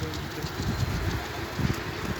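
Flocks of pigeons gather at a rooftop loft, a close, continuous rumble of wingbeats and fluttering with soft low thumps pulsing irregularly throughout.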